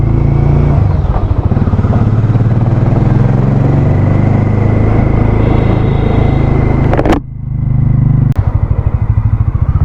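Motorcycle ridden on a Himachal Pradesh road between Chintpurni and Jwala Ji, its engine a loud, close, steady rumble throughout, briefly dipping and then picking up again near the end.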